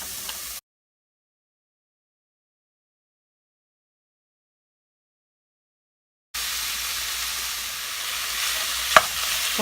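Ground beef frying in olive oil makes a constant close sizzle with a sharp utensil clink near the end, following a long stretch of total silence at the start.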